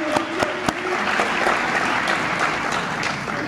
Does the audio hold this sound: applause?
yes